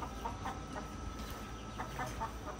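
Farm chickens cluck repeatedly in short, overlapping calls against a steady background hum, several birds close by.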